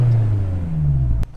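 A Honda S2000 fitted with a GReddy Revolution RS exhaust rumbles close by, its engine note rising and easing in a smooth purr before cutting off sharply near the end.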